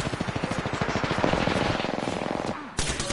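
Rapid automatic gunfire from a first-person shooter video game, a sustained burst of fast, evenly spaced shots that ends abruptly before a sharp louder sound near the end.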